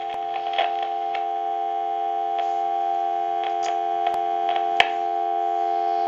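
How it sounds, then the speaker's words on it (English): A steady dial tone drones from a pink Trimline wall telephone under repair, with faint clicks and ticks scattered over the continuous hum. "you see how the dial tone came up"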